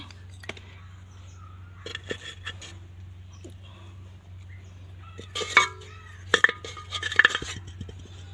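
Broken clay pot shards are laid into a flower pot as a drainage layer. A few sharp, hard clinks and taps cluster toward the end over a steady low hum, with quiet rustling earlier.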